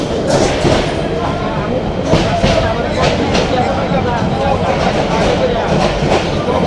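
The Chattala Express passenger train rolls into the airport railway station on its Chittagong to Dhaka run, a loud, dense rumble of wheels and carriages with rhythmic clatter throughout, voices faintly present.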